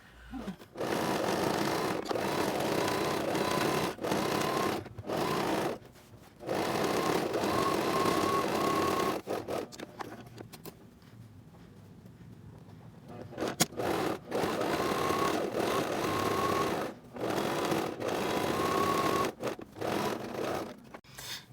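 A sewing machine runs in repeated bursts of rapid stitching while sewing elastic onto a duck-bill fabric face mask. Short pauses separate the runs, and one longer quiet gap falls in the middle.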